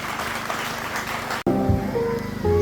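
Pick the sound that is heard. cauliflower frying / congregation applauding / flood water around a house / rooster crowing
congregation applauding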